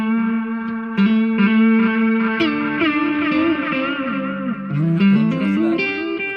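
Electric guitar through a Way Huge Supa-Puss analog delay pedal with gain raised, sustained notes and chords trailed by gritty, clipped repeats, played alone with no talking.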